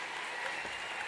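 A live audience bursts into steady, dense clapping for a Turkish singer, a brief, even wash of applause with no voices over it.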